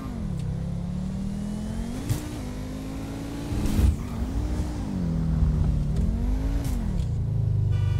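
A Pagani supercar in the video game GTA V drives along with a steady engine drone that rises and falls as it revs and shifts, continuous and fairly loud with no talk.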